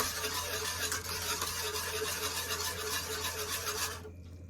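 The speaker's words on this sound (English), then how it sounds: "Stir everything together." Steady scraping and rasping of a spoon stirring a thick caramelised coconut, rice and tigernut mixture with cinnamon, vanilla and nutmeg, close and continuous, stopping abruptly near the end.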